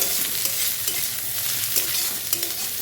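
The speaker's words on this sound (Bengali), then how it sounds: "আর এখন আমি দিয়ে দিচ্ছি পেঁয়াজ কুচিগুলো। এবার এটাকে ভালোভাবে ভেজে নেব।" Chopped onions frying in mustard oil, a steady close sizzle with stirring scrapes throughout, for a vegetable curry of ridge gourd, potato and egg.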